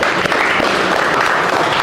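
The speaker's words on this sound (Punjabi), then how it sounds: "ਇਸ ਕੁੜੀ ਲਈ ਵੀ ਜ਼ਰੂਰ ਆਪਾਂ ਤਾੜੀ ਲਾਈਏ" A class of students applauds together in a coaching classroom, giving a short burst of dense, continuous clapping that stays loud and even throughout.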